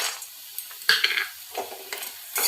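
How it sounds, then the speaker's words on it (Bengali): Homemade hing lentil bori fry in hot oil in a kadai, giving a moderate sizzle with several sharp clinks and stirring scrapes. No voices are heard. "তেল গরম হয়ে গেছে, এবার বড়িগুলো আমি দিয়ে দেব।"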